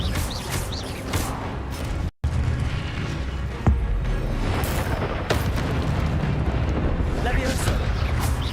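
A fire spell cast in the Hogwarts Legacy video game sets off a loud, booming burst of flame that swells and roars, with further blasts and bursts of game effects close behind and a player's voice heard over the action.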